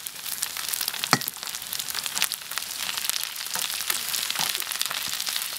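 Rice, rice noodles, cabbage, carrot and cucumber stir-fried in a wok for a Guizhou street-style omelette rice, giving a steady close sizzle with crackling, scraping stirs throughout and no talk.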